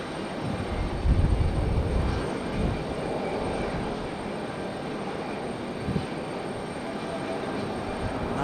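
Frontier Airlines airliner landing at Raleigh-Durham International, a steady broadband engine roar that swells around the touchdown and holds at a sustained, fairly loud level throughout.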